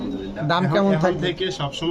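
Pigeons cooing in soft, repeated low calls, close by, with people talking over them throughout, at a pigeon sale including racer, damascene, beauty and Danish breeds.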